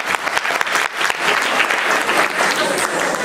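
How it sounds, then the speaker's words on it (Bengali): An audience applauds after a dance performance at a cultural festival, with a burst of clapping that swells and then holds steady and dense, along with a faint murmur from the crowd. "একটি করতালি দিলেন।"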